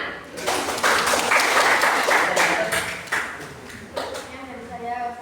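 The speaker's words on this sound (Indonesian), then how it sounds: "Baik, beri tepuk tangan." A classroom group applauds after a practice teaching session, with a burst of clapping that swells and fades and a few sharper claps, while voices speak over it.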